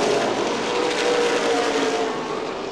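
Late model race cars roar around the Lucas Oil Raceway Indianapolis track in a CRA Late Model Sportsman race, a dense, loud and continuous engine drone with no pauses.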